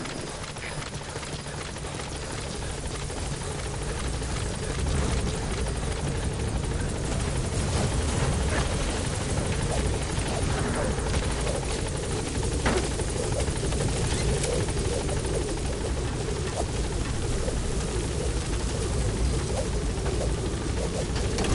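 B-Quad helicopter from Metal Gear Solid V approaching a landing zone, a loud continuous rotor roar that builds slightly and holds steady throughout.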